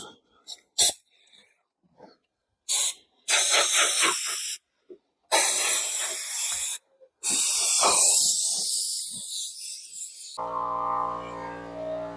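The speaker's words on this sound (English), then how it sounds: "I got an air compressor, and since we're outside anyhow, that's why I prefer doing stuff like that outside. Just gonna blow this off" Outdoors, an air compressor nozzle blows dust off an epoxy table in several sharp bursts of hissing air, each a second or two long and separated by silence, followed by a quieter tonal hum at the end.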